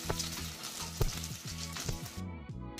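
Potatoes fry with browned cumin seeds in a pan. A soft, close sizzle and light stirring fill a brief moment before cutting off sharply.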